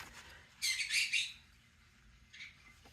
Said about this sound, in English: These two birds get to talking to each other